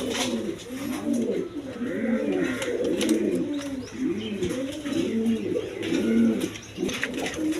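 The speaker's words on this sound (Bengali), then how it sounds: "এখানে এক পেয়ার কবুতর আছে" A pair of pigeons coo in repeated, rolling low calls, a steady rhythmic series of soft throaty phrases close by, one after another with little pause.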